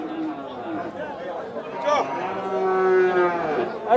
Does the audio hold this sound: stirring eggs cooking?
no